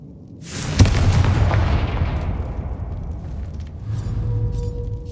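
A fiery Confringo spell from Hogwarts Legacy detonates with a loud boom and a rolling explosive rumble that decays away, followed by a lower surge of rumble near the end.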